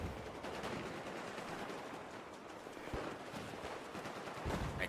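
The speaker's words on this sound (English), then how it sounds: "I hear sniper fire." Sniper fire and other gunfire crackle through a Battlefield match on PS4, quiet, distant shots and bursts over a continuous rumble of battle noise.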